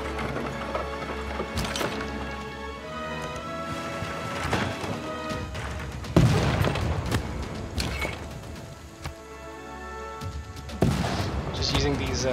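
Artillery fire in Civilization VI, roving artillery shelling during a naval fight with a frigate: several sharp booming blasts at irregular intervals over game music and clattering battle noise.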